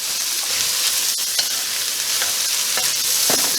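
Pork stir frying with scallions and garlic in a hot pan, a steady close sizzle with scraping and tossing clatters from stirring, no talking.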